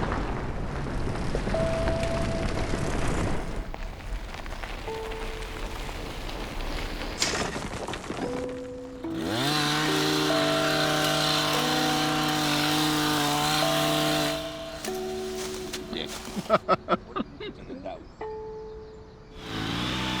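Buzzing chainsaw revving up and holding steady during trail work in a forest, loud and close, with people talking around it before it starts.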